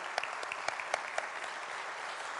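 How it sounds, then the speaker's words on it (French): At a Collège Boréal graduation ceremony, an audience claps in a brief, fairly faint round of applause, with a few sharper individual claps standing out. "Est-ce qu'on pourrait aussi leur donner une main d'applaudissements?"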